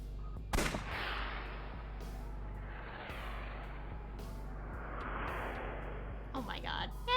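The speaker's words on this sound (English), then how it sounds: "This could work. I'll try shooting it." A revolver shot in the game AI: The Somnium Files, one sharp bang near the start that rings out into a hollow rumbling tail, followed by low ambient swells and a clatter at the end, with no talking.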